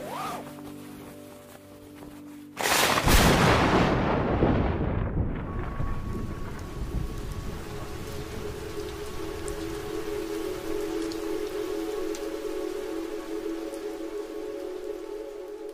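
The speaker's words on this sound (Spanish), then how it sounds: "En el sur de China llueve una barbaridad. Gota tras gota tras gota." Heavy rain in southern China starts with a sudden loud crash of thunder, then a dense steady downpour hisses and patters on surfaces and keeps going close by.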